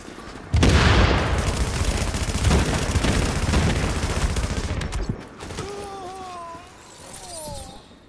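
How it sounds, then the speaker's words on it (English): Heavy suppressive automatic gunfire from a fight in The Division, a loud, dense burst that runs for several seconds, then cuts out into quieter background sounds with a few faint tones. "Suppressive fire, now!"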